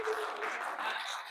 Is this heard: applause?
yes